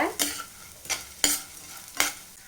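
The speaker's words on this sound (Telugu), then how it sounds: "ఇప్పుడు వీటన్నిటిని దోరగా ఫ్రై చేసుకుంటే సరిపోతుందన్నమాట" Fenugreek and cumin seeds are dry-fried and stirred in a pan, giving four distinct scraping strokes over a soft sizzle, close and fairly quiet.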